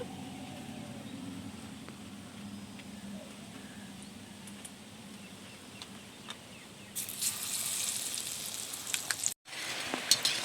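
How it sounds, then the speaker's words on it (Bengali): Half-egg pakoras fry in hot oil, a soft steady sizzle at first that swells into louder, crackling bubbling partway through, with a brief cut near the end. "আর বাকি যে 2-3টে আছে সেগুলোও ভেজে নেব।"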